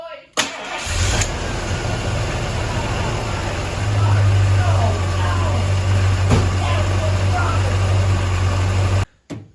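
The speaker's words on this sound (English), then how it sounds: "We'll try it and see if this engine runs." A demolition derby car's engine cranks and catches, then runs loud and close at a rough idle, the note deepening and swelling partway through before it cuts off abruptly at the end.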